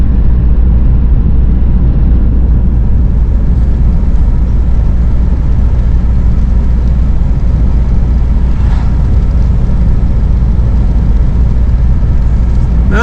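Steady broadband road rumble and wind from a car driving along a rural Alabama country road, continuous and loud throughout with a low engine drone beneath, no talking.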